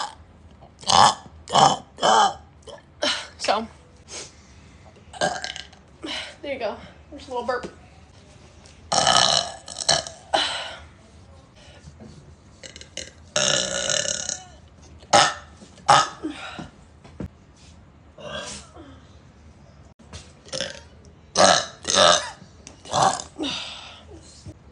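One person produces a long series of close, loud burps, some short and sharp, others drawn out and guttural, spaced irregularly with quieter breathy vocal sounds between them.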